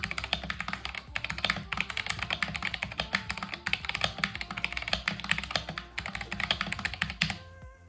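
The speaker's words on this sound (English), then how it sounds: "Let's hear a little bit of typing sound." Typing on a Gamakay LK67 mechanical keyboard fitted with Akko CS Sponge switches: a rapid, close stream of crisp key presses in quick bursts, with brief pauses, alone and then stopping at the end.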